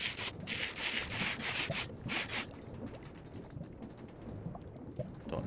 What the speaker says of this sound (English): smooth them out with some sandpaper